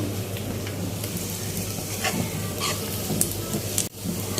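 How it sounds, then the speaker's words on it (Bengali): Whole cumin, chopped garlic and onion frying in oil, a steady close sizzle with light crackles and occasional stirring scrapes throughout. "তো এদিকে আস্ত জিরা দিয়ে, রসুন কুচি, পেঁয়াজ কুচি দিয়ে একটু আমি ভেজে নিচ্ছি।"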